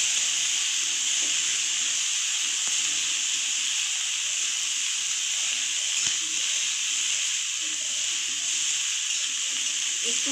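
Pumpkin, potato and cabbage fry in a pan over a lowered gas flame, giving a steady, even sizzle and hiss that stays at one level throughout.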